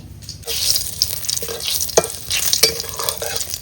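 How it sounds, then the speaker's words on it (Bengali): Cumin seeds tempering in hot oil in a wok set a steady crackling sizzle, broken by a few sharp pops and stirring clicks, close and moderately loud with no talking. "কড়াই গরম হয়ে গেছে আমি দিয়ে দেবো তেল আর কি ফোড়ন যাবে ফোড়ন হ্যাঁ ফোড়ন যাবে জিরে"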